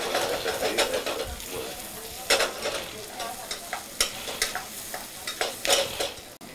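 Carrot given a quick fry in hot oil for pickled partridge, a close crackling sizzle punctuated by frequent sharp clicks and stirring knocks against the pan, with faint background noise.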